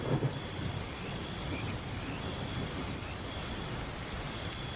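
Heavy cartoon rainstorm pours in a dense, steady roar with a low thunder rumble underneath, continuous and close, without speech.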